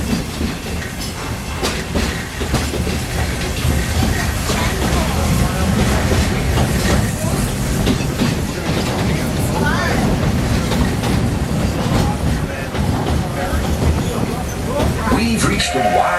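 The Walt Disney World Railroad train at the Magic Kingdom rolls along, giving a steady, loud rumble with rhythmic wheel clatter and hiss that carries through the whole stretch.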